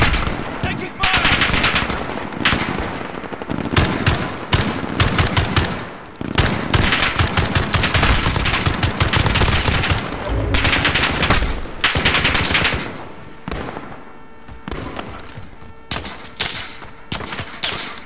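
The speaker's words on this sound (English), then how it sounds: "Taking fire!" Rapid automatic gunfire from the Call of Duty: Warzone battle royale, in dense repeated bursts that carry on through most of the stretch, with someone talking at times.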